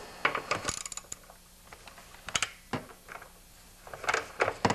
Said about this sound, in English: You're going to need a half inch socket for that.